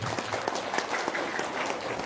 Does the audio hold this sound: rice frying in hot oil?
no